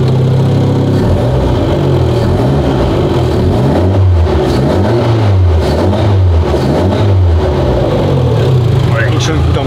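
A car engine running after repair, a steady loud mid-pitched hum that rises and falls in repeated revs, continuous throughout.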